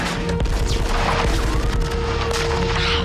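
Gunfire and explosions roar continuously through an action scene from the film Die Hard, loud dense bursts and booms with no talk over them.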